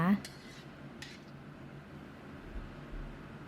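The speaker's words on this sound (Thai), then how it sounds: "คนให้พริกแกงละลายนะคะ" Curry paste being stirred into liquid in a pot for a Thai jungle curry with beef, opening with a few metallic clicks of a spoon against the pot, then a low steady background hiss, faint and without talking.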